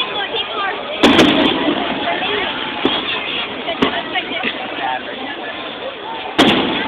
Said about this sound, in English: this is why they only want people shooting off fireworks here